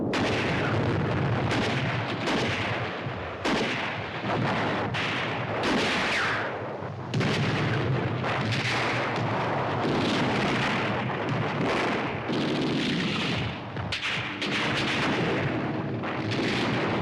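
Heavy cannon fire from Tiger tanks' 88 mm guns booms repeatedly in a battle, with irregular deep blasts and rumbling echoes overlapping in a dense, continuous barrage, no voices.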